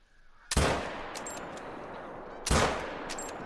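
Two sharp, loud 6.5 caliber rifle shots fired at a buck on a coastal hunt, about two seconds apart, each with a rolling echo that trails off outdoors.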